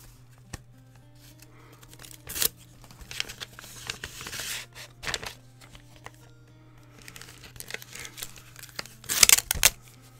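Envelopes are torn open while mail is being opened: several short papery rips and crinkles spaced across the clip, ending in a louder tearing burst, close up over a steady low electrical hum, no speech.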